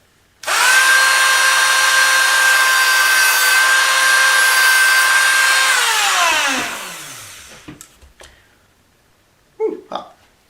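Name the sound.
cutting notches in a mandolin fret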